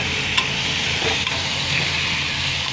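Vadiyalu, sun-dried fritters, fry over high flame in a pan, giving a steady, dense close sizzle with faint stirring scrapes throughout.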